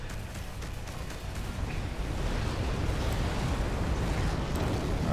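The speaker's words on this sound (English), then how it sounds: "Explosions in this game are quite pretty and very satisfying to pull off" A broad, steady rumble of explosion noise in the space strategy game Between The Stars roars continuously, with faint crackling bursts on top, and no voices.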